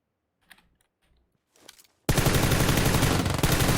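Gunfire in PUBG Lite, preceded by a few quiet keyboard clicks, then a sudden loud burst of rapid automatic shots that continues to the end.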